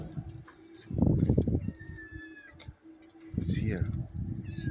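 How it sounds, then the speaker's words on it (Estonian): A cat meows repeatedly from somewhere hidden inside a car, thin rising cries breaking through over people talking and engine rumble. "kus kohast tuleb see kassi hääl?"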